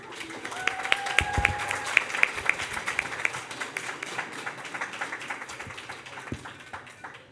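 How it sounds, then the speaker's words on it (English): Steady audience applause for a graduating class of 2021 at a graduation ceremony, dense hand clapping with a few sharp individual claps standing out, sustained at moderate level throughout with faint background voices. "One more round of applause for the class of 2021"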